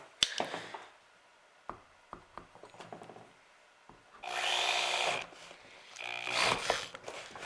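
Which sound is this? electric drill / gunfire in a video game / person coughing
electric drill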